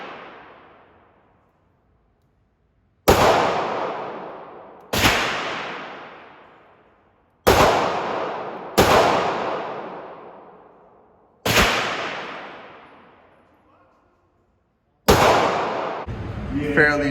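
Six sharp gunshots from an S&W J-frame .38 Special revolver at a shooting range, each a loud crack with a fading ring, spaced a few seconds apart, with brief rustling at the end.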